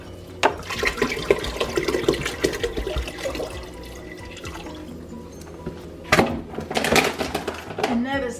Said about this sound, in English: We're gonna pour the entire bottle in.